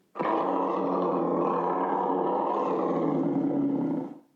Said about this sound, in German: Und wie klingt so ein Leopard?